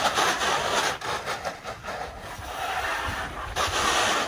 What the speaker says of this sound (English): so I start washing, remove all the mud and sand that I have on it